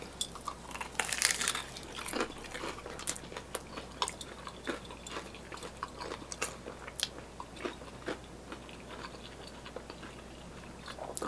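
Close crunchy bites followed by wet chewing of a Korean corn dog topped with spicy-mayo dirty sauce, with scattered clicks and faint clinks of utensils over a quiet room, no talking.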